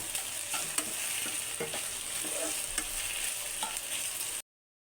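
Chicken roll filling sizzles in a hot pan while being stirred, with steady crackling frying noise and a few sharp scrapes and clinks of the utensil, close and continuous before cutting off abruptly.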